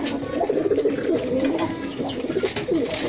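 A brooding pigeon-like bird on a poultry farm coos in soft, repeated rolling phrases, close and steady throughout.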